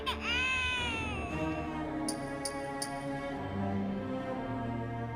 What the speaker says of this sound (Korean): 건전지 없이 우는 아기 인형까지.